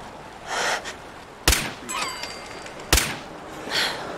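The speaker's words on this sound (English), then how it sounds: "let's use our real sniper rifle" Two sharp, isolated sniper rifle shots ring out in a video game set along a coastline, spaced about a second and a half apart, with faint breathy sounds between them.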